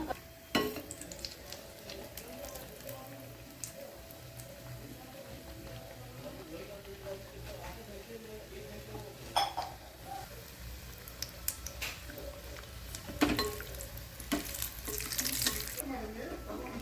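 Mumbai-style inverted vada pav fries in oil with a constant soft sizzle, broken by sharp clinks and clatters of utensils against the pan. Voices are heard intermittently over the cooking.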